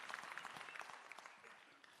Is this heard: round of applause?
yes